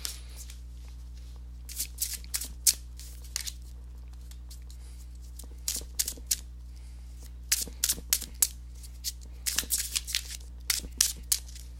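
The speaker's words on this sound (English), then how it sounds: "let me go ahead and give these cards a shuffle" Tarot cards being shuffled in quick riffling bursts, several rounds separated by short pauses, close up over a low steady hum.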